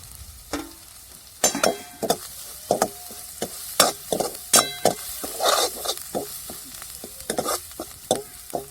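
Black masala spice mix for amti is stirred and fried in a pan, with a spatula scraping and knocking in a quick, irregular rhythm over a soft sizzle. The sound is close and there is no talk.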